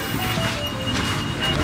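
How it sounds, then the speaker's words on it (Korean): A train rumbles steadily into South Bank station in Brisbane, a continuous low roar with rattling carriages and a faint high squeal, fairly close. "찍자마자 열차가 왔어요"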